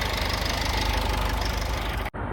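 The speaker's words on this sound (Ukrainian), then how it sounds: "Мотор працює чітко, рівненько" A Renault Koleos engine with 138,000 km idles steadily and evenly with a low, continuous rumble, close by, cutting off abruptly near the end.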